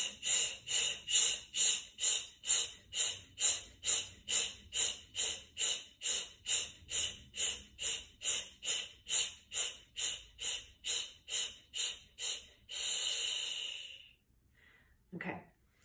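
Rapid Breath of Fire yoga breathing: about thirty quick, even, forceful nasal exhalations in steady rhythm, close and clear. A longer exhale follows, then quiet.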